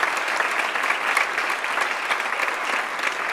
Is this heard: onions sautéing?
no